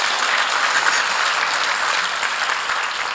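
An audience breaks into sustained applause, a dense, loud wash of clapping that holds steady throughout without any voices.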